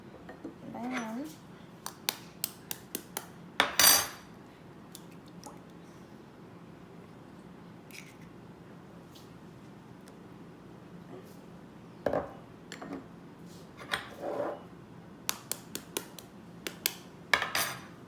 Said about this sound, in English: Now we're mixing together all the wet ingredients before we add in the dry ingredients.